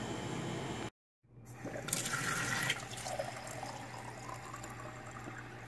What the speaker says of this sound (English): And the water comes out crystal clear.